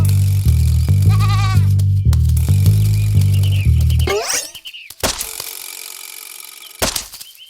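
Sheep bleat in a children's story sound effect, several loud, wavering cries over a rhythmic musical backing, followed by an abrupt crash and sparse thuds.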